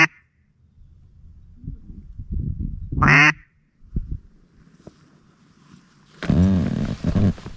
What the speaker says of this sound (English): we got ducks over here